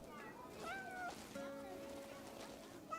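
A cat meows in a video game, several short rising and falling mews spread across a few seconds, fairly quiet.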